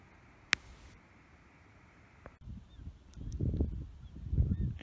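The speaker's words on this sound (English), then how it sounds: "The gulls are going crazy." Honking gull calls sound in scattered bursts on Catalina Island, growing busier and louder toward the end against a low rumbling background.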